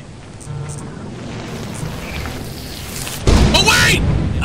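A lightning strike in the Lethal Company video game lands as a sudden loud, crackling boom that cuts in over a low ambient rumble while players talk.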